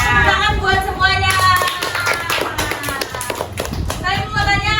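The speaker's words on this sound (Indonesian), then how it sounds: "Tepuk tangan buat semuanya." A classroom of children clapping together in a steady, lively round of applause, loud and close, with some voices mixed in.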